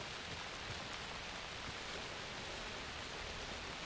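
Rain ambience from the video game Alan Wake II, a soft continuous wash of falling drops at low volume, even and unbroken with no voices.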